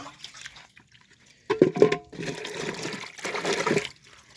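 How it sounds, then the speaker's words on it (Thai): Water splashes over hands being washed after mixing a wood vinegar spray, heard first as a couple of short bursts and then a longer running rinse, close by and without talking. "ขออนุญาตล้างมือจังหน่อย"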